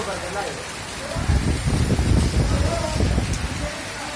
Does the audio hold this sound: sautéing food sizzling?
no